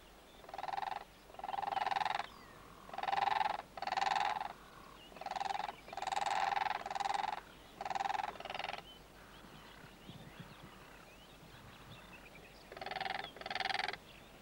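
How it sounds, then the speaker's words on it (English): Two cranes at the Etosha waterhole in Namibia call in alarm at a lion hidden in dry yellow grass, giving a series of loud, rhythmic, honking bursts in close groups with short gaps between them. "The sight of a lion nearby, hidden in the yellow grass, alarms these two cranes into calling and dancing."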